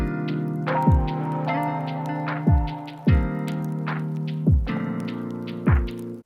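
A smooth, laid-back AI-generated R&B type beat: sustained warm chords with a deep bass and punchy low kicks landing roughly every second and a half, plus light hi-hat ticks, steady and close with no voices.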